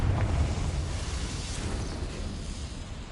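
The Confringo fire spell exploding in Hogwarts Legacy, a deep rumbling burst that swells at once and then rolls on as a low, sustained roar fading slowly, with no other sound over it.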